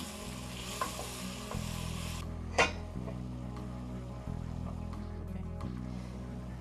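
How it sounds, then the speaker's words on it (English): Veal with crushed pepper sautéing in a pan: a steady, close sizzle with light stirring and one sharp utensil clank partway through. No one speaks. "We're going to saute this up."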